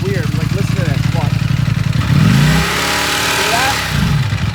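A 2018 Ducati Panigale V4S engine runs on a dyno, loping unevenly at low rpm with a rapid pulsing beat, then rising briefly in a rev before settling back, while someone talks over it.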